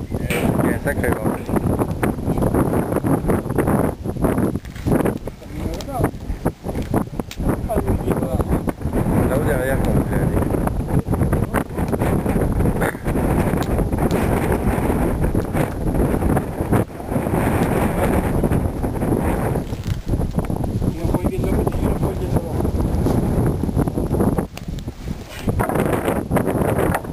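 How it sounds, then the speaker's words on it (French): Strong outdoor wind buffets the microphone in loud, continuous gusts and roaring bursts, with people talking in French underneath. "Il y a un sacré vent."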